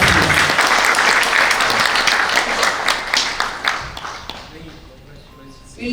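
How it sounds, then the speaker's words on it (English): An audience at an inaugural and awards ceremony claps in loud, sustained applause that gradually thins and fades out over several seconds. "Can you have a round of applause,"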